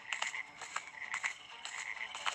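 Several frogs croak in a steady, rhythmic chorus, with bright repeated calls close by over a faint background and no voices.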